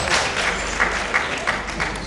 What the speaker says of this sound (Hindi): तालियों से इस्तकबाल किए जनाब मंजर भोपाली।